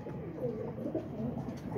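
Pigeons kept by a pigeon fancier coo in soft, low, continuous murmurs close by, with no talk over them.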